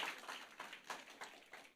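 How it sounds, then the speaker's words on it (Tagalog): A church congregation claps for God during a service, a brief, lively patter of hands with no speech over it. "Isang buhay at malakas na palakpak para sa ating Panginoon."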